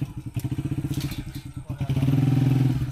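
A motorcycle on a muddy track near a waterfall in Kashmir, its engine chugging in quick, steady pulses close by, then swelling into a louder, smoother drone for the last second.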